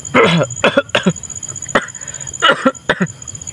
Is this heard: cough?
yes